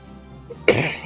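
One sharp cough, close and abrupt, following a moment of quiet background hum.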